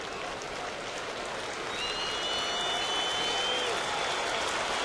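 A crowd of about 46,000 at a 2009 Yankees–White Sox baseball game cheers and applauds near the final out, a dense, continuous roar that swells louder partway through.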